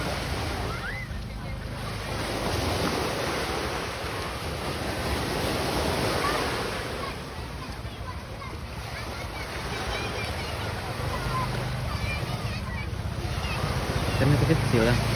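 Waves wash in steadily at a beach in Lhokseumawe, forming a broad rushing surf with slow swells, mixed with wind buffeting the microphone and faint voices in the background.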